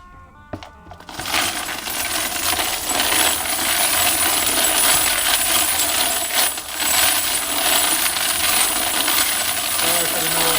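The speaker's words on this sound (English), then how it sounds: "So I'm just gonna stick it in my sifter, and I'm gonna run it" A sifter runs to separate walnut media from .308 brass cases, a loud continuous metallic rattling and clinking of tumbling cases, close and harsh, starting after a short click.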